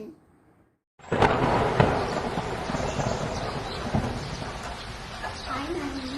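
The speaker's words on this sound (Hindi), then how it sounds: "हाय, इतनी बार बारिश हो रही है" Steady rain with rumbling thunder in a home setting, starting abruptly after a second of near silence and then holding as a loud, dense downpour with occasional low rolls.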